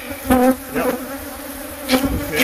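Killer bees buzz close by in a dense, droning hum, swelling in brief louder bursts as individual insects pass near and then fading back.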